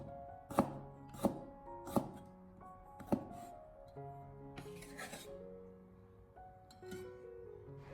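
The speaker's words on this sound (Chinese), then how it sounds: "把它改刀切成薄片" A kitchen knife slices a small piece of fresh ginger into thin slices on a cutting board, giving four crisp, evenly spaced chops followed by softer, scattered cuts, close and clear in a quiet room.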